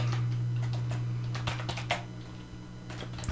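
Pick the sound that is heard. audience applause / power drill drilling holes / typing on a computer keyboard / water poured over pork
typing on a computer keyboard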